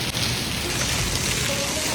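Hailstones hammer down hard onto pillars during a violent storm, a dense, loud, unbroken clatter and hiss that fills the whole moment without any voices.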